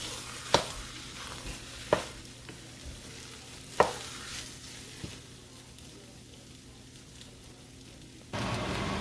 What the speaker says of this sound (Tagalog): haluin lang natin ng haluin hanggat maghihiwalay yung mga kanin